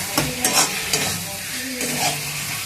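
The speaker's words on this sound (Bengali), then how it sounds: "আলুটা দিয়ে বেশ কিছুক্ষণ আর একটু কষাতে হবে।" Potatoes and spice paste sautéed in a pan for a banana-flower dish. A continuous low sizzle carries a few distinct stirring scrapes near the start, then settles into steady frying.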